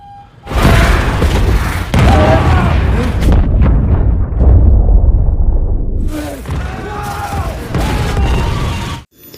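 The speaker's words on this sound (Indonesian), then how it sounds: "ledakan kedua terjadi dengan amat sangat dahsyat" A submarine explosion from a film about the Kursk: heavy booming blasts roll and rumble loudly, one after another, with crackling debris, then a short lull before more thunderous bursts.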